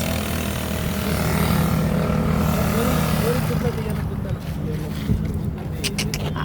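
A bicycle-mounted brush cutter engine for cutting grass in a fruit orchard roars steadily at full throttle, loud and close, with a voice talking over it.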